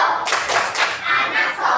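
Children clap in rhythm for the Tepuk anak soleh chant in a classroom, a few quick close claps with voices mixed in.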